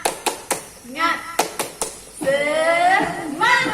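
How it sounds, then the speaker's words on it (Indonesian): Children at a school orientation clapping out a short rhythmic cheer, sharp single claps spaced in a quick pattern alternating with bursts of young voices chanting, close and fairly loud. "Bagaimana kalau kita tepuk semangat? Oke, tepuk semangat."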